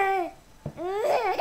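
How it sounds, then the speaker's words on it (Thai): A child cries in the horror game Apartment 666, a high wavering wail with rising and falling pitch that breaks off briefly and then resumes, loud and close with no talking over it. "นี่เสียงเด็กร้องไ"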